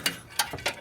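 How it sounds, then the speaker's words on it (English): A ratchet clicks in three short, close bursts while bolting the radiator fan bracket on a 2001 Honda Civic, crisp and fairly loud with brief pauses between strokes. "So now I'm gonna go ahead and just bolt this up real quick"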